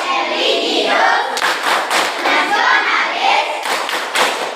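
A class of standing children claps in unison in a classroom, a rhythmic pattern of sharp, loud hand claps and thuds in quick groups with short pauses between them.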